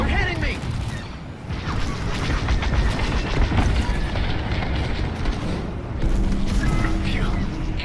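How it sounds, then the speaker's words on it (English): Carrier blowing apart in Star Wars Squadrons: continuous heavy booms and rumbling explosions with sharp crackles throughout, loud and dense, mixed with game effects and intermittent voices. "Carrier destroyed."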